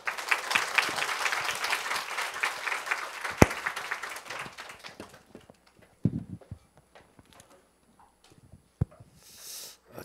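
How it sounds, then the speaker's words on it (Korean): Church congregation claps to welcome the pastor at a Wednesday service, a dense wash of applause for about five seconds that thins to scattered claps, followed by footsteps and a few knocks in the quiet. "그 목사님 나오실 때 환영의 박수로 맞이해 주시겠습니다."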